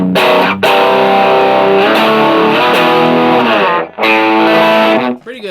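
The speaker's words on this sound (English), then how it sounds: "It feels like more of an overdrive than a distortion" Loud overdriven electric guitar chords through a Lekato Pogolab mini amp ring out in sustained strums, with brief gaps between changes and a final chord trailing off.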